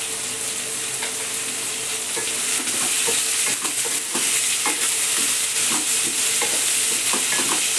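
Usal of peanuts and potatoes being stir-fried in a pan, a steady sizzle with frequent scraping and clinking strokes of the spatula, close and continuous with no talking.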